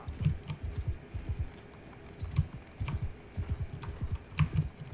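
Cavalry horses in the game Mount & Blade II: Bannerlord run in a quiet, distant patter of irregular hoofbeats that repeat steadily throughout.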